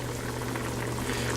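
Fried fish curry bubbles in a covered pan, a dense, continuous simmering roar with steady low hum, close and fairly loud throughout the short stretch.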